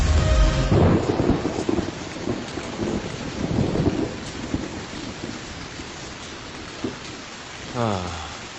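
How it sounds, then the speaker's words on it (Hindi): Heavy rain pours steadily throughout, with thunder rumbling loudly at the start and fainter rolls later, and a voice briefly speaks near the end over the downpour. "काफी तेज बारिश हो रही है।"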